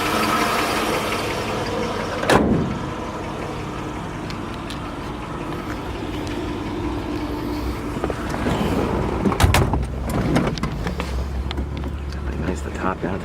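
A 1955 Chevrolet Bel Air convertible drives with the top down, its engine a steady low rumble under wind noise, with a few brief knocks and people talking over it.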